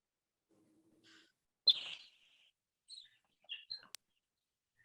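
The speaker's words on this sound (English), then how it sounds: "There's the birds, Trent." Birds chirping outdoors: a few sparse, faint, high chirps and short tweets scattered across near-silence, with one louder brief burst.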